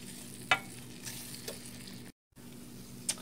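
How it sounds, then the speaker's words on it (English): A spoon stirs a thickening vegan roux for scalloped potato sauce, giving a few soft, isolated scrapes and taps over a low kitchen hum, with a brief dropout midway. "And you're just going to keep stirring this"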